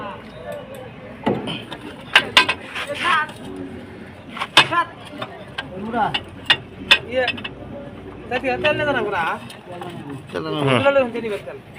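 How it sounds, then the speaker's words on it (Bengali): Ratchet wrench tightening a bolt on a 12 hp engine, sharp clicking ratchet bursts in short runs amid clanks, with people talking throughout. "রেঞ্জ ব্যবহার করছি আমরা। টাইট"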